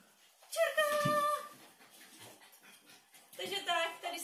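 A dog panting and whimpering during a free-shaping training session, with high whiny cries in two bursts separated by quieter breathing, close and fairly loud.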